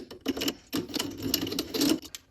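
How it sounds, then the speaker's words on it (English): A small hand deburring tool scrapes a burr from inside a metal carburetor adapter for a Mikuni TM40 swap on a DR650. Several close, short scraping strokes come in quick bursts with brief pauses between them. "I'm just going to use my little deburring tool"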